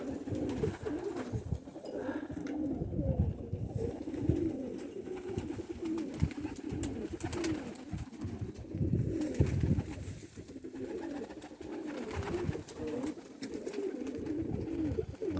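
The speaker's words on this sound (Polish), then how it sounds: "Dla mnie to jeden z moich ulubieńców to jest naprawdę porządny gołąb, lotny ptak." Pigeons, including a sturdy flying breed, coo steadily and repeatedly close by in a loft or yard, soft throaty calls overlapping one another with no speech.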